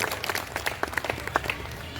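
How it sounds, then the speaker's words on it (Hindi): Scattered hand clapping from a rally audience welcoming a speaker, a brief patter of claps moderately close under a background murmur. "अनुरोध करता हूं एक बार फिर उनका तालियों से आप लोग स्वागत कर दीजिएगा"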